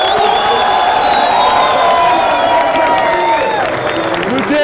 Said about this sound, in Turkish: Nefçiler alkışlar!